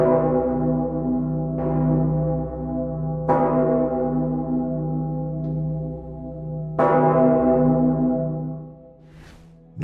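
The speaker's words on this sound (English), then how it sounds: "The bell is used sparingly, ringing only a handful of times a year" A huge cathedral bell, the Great Bell of the People's Salvation Cathedral, tolls several times in slow succession, each deep strike ringing out with a long, humming decay, loud and clear with no voices.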